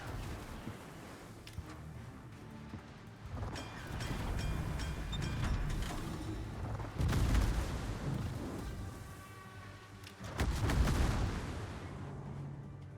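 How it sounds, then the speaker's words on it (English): Gearing destroyer guns in World of Warships fire and land hits in heavy overlapping booms and crackling shell impacts that swell in several loud surges over a rumbling battle background, with no speech. "And the gearing guns do hurt when they hit."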